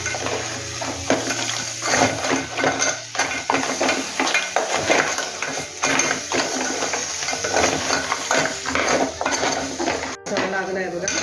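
A spoon scrapes and clatters against a pan while crab curry mixture is stirred, loud, close and continuous metallic scraping with brief knocks.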